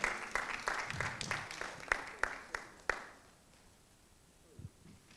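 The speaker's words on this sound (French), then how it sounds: "Et on peut l'applaudir pour l'encourager, c'est important." A small audience at a panel talk on Nelson Mandela's impact gives a brief round of scattered handclaps, a dozen or so distinct claps fading out after about three seconds into quiet room tone.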